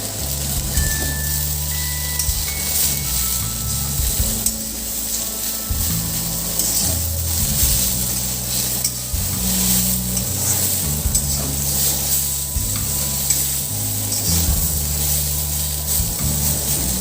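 Spinach frying in a pan with cumin powder just added for Bengali palong shak ghonto, a loud continuous sizzle broken by repeated scraping stirs of a spatula, close up with no talking.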